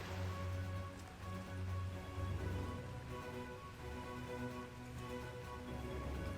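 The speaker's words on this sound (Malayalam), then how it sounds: "നല്ല മഴയാണ് കേട്ടോ" Heavy rain with wind falls steadily around an old Jain temple structure at Thirunelli, a dense continuous wash of noise that stays loud and even throughout, with no voices.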